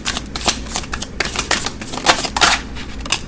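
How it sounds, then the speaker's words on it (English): Tarot cards are shuffled close up in quick, uneven bursts of papery flicks and taps, loud and dry with no voices. "I'll shuffle these out."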